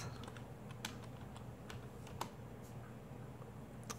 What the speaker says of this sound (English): let's type in Pure Box.